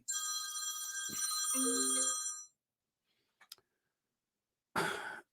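A phone rings with a bright, sustained electronic tone for a couple of seconds, then cuts off, followed by near silence, a faint breath and a short cough-like burst.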